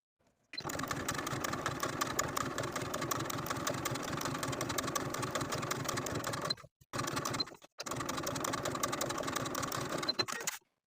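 A sewing machine edge-stitches bias tape to the seam allowance of a dress, running at a fast steady hum with rapid needle clatter, stopping briefly twice before resuming, close and alone with no voices.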